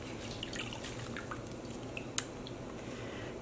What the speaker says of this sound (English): And so, squeeze out all the liquid.